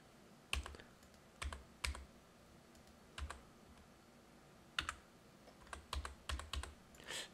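Computer keyboard keys pressed in short, irregular bursts of shortcut taps while modelling in 3ds Max 2021, with crisp close clicks separated by quiet pauses and no talking.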